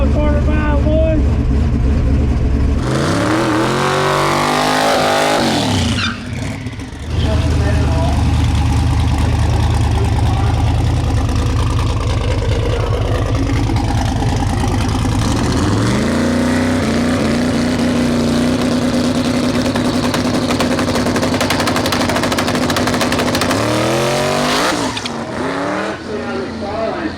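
A big block drag car nicknamed Mullet roars down a quarter mile at a drag racing event, its loud engine climbing through rising gear sweeps on two separate runs, with voices mixed in.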